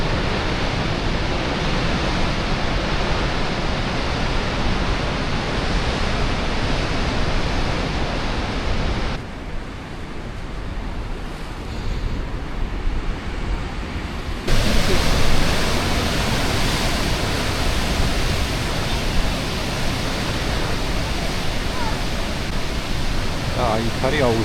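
Big Atlantic waves crash and surge at a natural rock pool on Madeira, making a loud, constant roaring wash that eases for a few seconds midway before surging back at full force.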